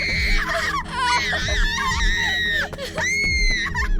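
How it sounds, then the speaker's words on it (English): Panicked screaming from several people in a horror animation, shrill overlapping shrieks and wails running nearly continuously and loudly, with a brief dip before the screams surge again. "Suddenly the screams turned to panic as a man started yelling and cursing"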